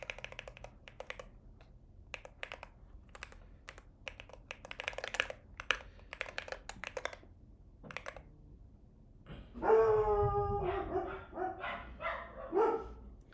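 A dog barks a few times in a room around the ten-second mark, loud and close, following a stretch of steady computer keyboard typing and clicking.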